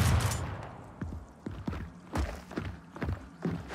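Gunfire in the video game Gears of War, fired while the character slides into a wall: a run of sharp, separate shots spaced roughly every half second, fairly loud and close, over low game rumble.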